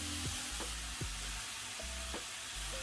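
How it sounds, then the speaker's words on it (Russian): A silicone spatula stirs apple pieces through hot caramel in a pan, with a soft continuous sizzle and a few scraping strokes, close and fairly quiet. "Выкладываем в нее яблоки и быстро перемешиваем с помощью лопатки."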